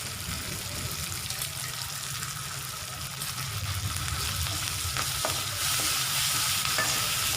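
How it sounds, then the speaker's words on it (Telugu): Drumstick leaves frying in a pan, a steady close sizzle and crackle with stirring scrapes throughout, no talking. "ఇట్లా మునగాకు వేసుకొని ఫ్రై చేసుకోవాలండి."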